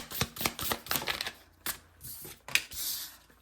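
Tarot cards shuffled by hand in close, crisp bursts of riffling and snapping, with brief pauses between runs and a longer sweeping shuffle at the end.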